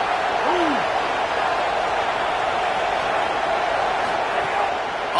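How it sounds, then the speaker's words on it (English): Continuous roaring crowd noise fills a stadium during a college football video game featuring Nebraska, a steady wall of distant voices holding at even loudness without letup. "This crowd, full throat, spreading the eardrums and letting them know it's going to be a long day"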